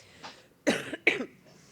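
A speaker recovering from bronchitis coughs in two harsh, close bursts, with a softer throat sound before and after.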